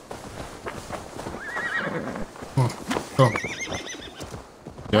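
A horse in Assassin's Creed Valhalla neighs and whinnies several times with clip-clop hooves beneath, over game sounds and a person talking.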